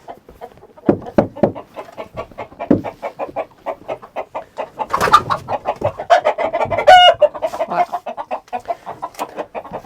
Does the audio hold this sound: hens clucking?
yes